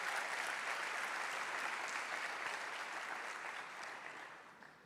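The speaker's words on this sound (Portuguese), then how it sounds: "Dê mais um aplauso para Jesus" A church congregation applauds in steady, dense clapping that gradually fades out toward the end, sounding somewhat distant and soft.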